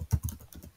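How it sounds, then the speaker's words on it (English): A short burst of keystrokes on a computer keyboard, five or six quick soft taps close by, alone without talk. "You can see whatever I'm typing over here"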